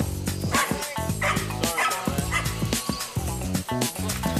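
A rescue dog barks and yips loudly at other dogs, rapid close barks mixed with whimpering cries, while other dog voices overlap in a busy, continuous burst.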